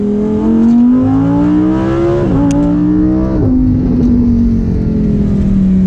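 A Lamborghini Huracan Performante engine revs loudly and close, pitch climbing steadily through gear changes with brief dips, a sharp exhaust crack or two breaking through.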